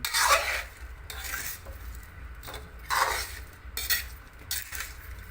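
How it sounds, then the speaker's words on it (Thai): A river fish curry with fiddlehead fern is stirred in a pot, giving a few loud scraping and clinking strokes of the utensil against metal, spread unevenly through the clip with soft sizzling between them. "แล้วก็คนให้เข้ากันนะครับ"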